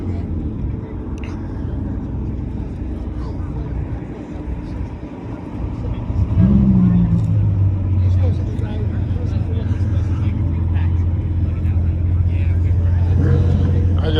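Cars roll past at a Cars and Coffee meet, with a low engine hum that swells and holds steady partway through, alongside background chatter from people talking nearby.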